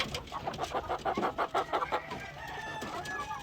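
A rooster on a small poultry farm gives a series of rapid, rhythmic clucking pulses that run into a drawn-out crow, close and fairly loud, with no talking.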